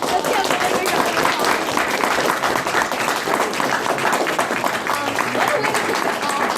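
A conference audience claps steadily and loudly for several seconds, a dense continuous patter of many hands, with faint voices mixed in underneath.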